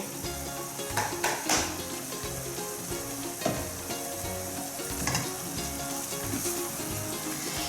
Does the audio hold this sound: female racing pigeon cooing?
no